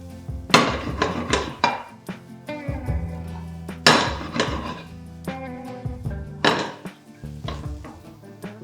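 Spoon stirring Kashmiri chili powder into mushroom masala in a pan, heard as repeated scraping and clanking of utensil on metal in uneven bursts, close and fairly loud, without speech.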